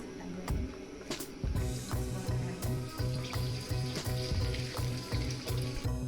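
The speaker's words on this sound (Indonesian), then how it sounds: "Minyak gorengnya 3 sendok makan untuk menumis bawang merah" Steady crackling sizzle of shallots frying in hot oil, with a pulsing low rumble beneath and no voices.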